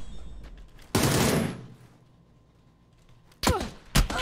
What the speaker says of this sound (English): I was just test firing.